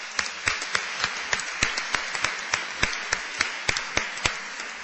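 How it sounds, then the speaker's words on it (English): A small audience at an annual credit union meeting gives a round of applause, heard as sparse, distinct hand claps in an uneven, fairly steady rhythm at moderate volume. "I'd like to extend a round of applause to them."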